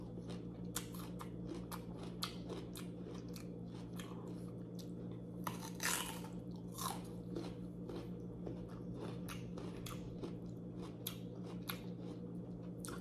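Someone bites and chews a crunchy yellow peach dipped in salt, with crisp, repeated crunching bites and wet chewing sounds close to the microphone over a low background hum.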